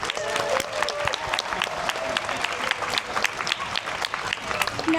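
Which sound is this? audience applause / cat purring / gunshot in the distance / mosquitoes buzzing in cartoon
audience applause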